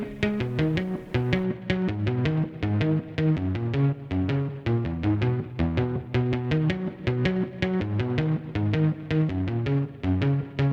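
A synthesized stand-in for a strummed guitar part in a pop production plays as a dense, steady rhythmic pattern of plucked-sounding chords, loud and continuous with no voices.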